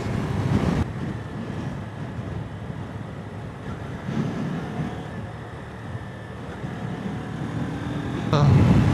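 Wind roars across the microphone during a ride along a coastal road near Xuhai, crossing from the west coast to the east coast: a continuous, loud, low buffeting rumble with no break.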